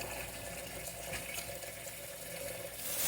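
Tap water runs steadily into a sink to wash and soak turnip greens, a continuous close rush of pouring liquid with no talking, swelling slightly louder near the end.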